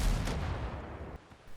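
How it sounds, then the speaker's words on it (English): A loud, booming cannon blast from the pirate video game Windrose opens the sound, then its heavy rumble decays over about a second with a faint second thump near the end. "cannons"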